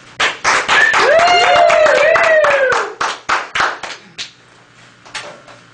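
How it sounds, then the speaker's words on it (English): An audience claps for Sean at a Popcorn Knight knighting ceremony: a brief burst of hand claps with a whooping cheer over it, thinning into a few scattered claps before fading. "Let's please give Sean a round of applause."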